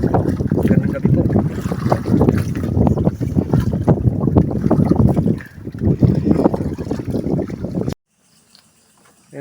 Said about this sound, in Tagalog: Gawa ng sobrang lakas ng hangin.